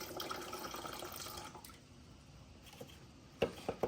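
Coolant water drains from a Raptor 700 ATV and trickles quietly, with a few sharper drips and splashes near the end, no talking.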